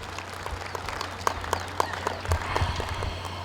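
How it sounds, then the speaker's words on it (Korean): Audience applause after a traditional Korean folk song performance by an intangible cultural heritage performer and a folk arts troupe at an independence movement centennial ceremony, with scattered claps over a steady low hum. "다시 한번 따뜻한 박수"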